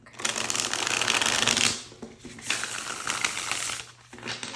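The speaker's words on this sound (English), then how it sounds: "Oh, that was a good shuffle." A deck of tarot cards is riffle shuffled in two long rapid bursts of crisp fluttering clatter, close and fairly loud, with no talk.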